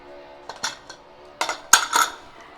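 A pressure cooker lid being opened over cooked prawn biryani gives a few sharp metallic clinks and knocks, close and fairly faint, with quiet gaps between them.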